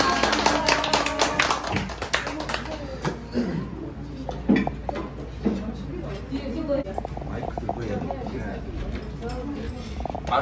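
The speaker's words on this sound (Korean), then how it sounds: "박수." Scattered clapping from a small audience at a cozy live talk show in a room hung with framed paintings, sharp irregular claps fading into quieter taps and light clinks as voices murmur underneath.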